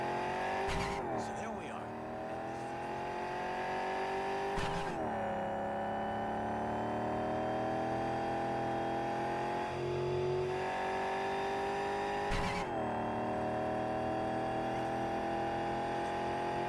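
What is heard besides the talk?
car driving and revving in the video game Cyberpunk 2077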